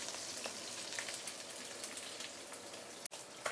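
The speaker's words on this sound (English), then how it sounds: "this is after approximately 3 to 5 minutes sauteing" Pork belly sautéing in a pan for a mui choy stew, a continuous close sizzle with fine popping crackles, briefly cutting out near the end.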